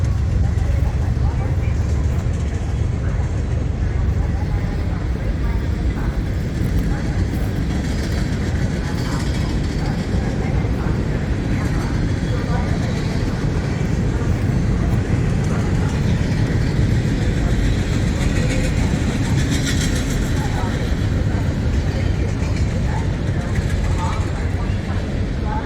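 A train rumbles past at the NY State Fairgrounds, a loud, steady, broadband roar of wheels and cars that holds unbroken throughout without fading.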